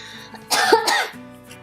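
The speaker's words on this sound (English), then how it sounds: "It was about 3 weeks long, and I'm still coughing." A single harsh cough bursts out over quiet background music, close and fairly loud.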